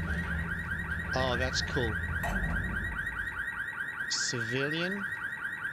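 A car alarm wails in the tactical shooter game Ready or Not, its repeating electronic tones cycling steadily in the background while a person talks over it.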